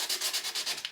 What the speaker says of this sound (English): I think I'm just gonna go ahead and take my sandpaper and just kind of sand around this whole frame